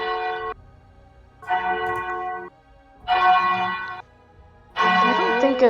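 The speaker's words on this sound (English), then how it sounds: "you hear the bells" Heavy, resonant bell tolls ring out in a slow sequence of four long strikes, each sustaining with rich overtones before the next, loud and close.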